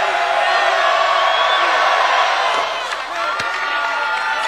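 A basketball arena crowd at a Boise State vs. Idaho men's game roars and cheers loudly and continuously around a free throw by Kobe, with whoops in the mix and a brief dip near the end.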